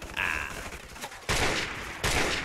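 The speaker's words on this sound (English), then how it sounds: "heavy machine gun. Do what? Open fire!" Heavy machine gun fire in Call of Duty: Modern Warfare Remastered, a close, loud burst of rapid shots that stops, then two further sustained bursts follow, with faint game noise under the gaps.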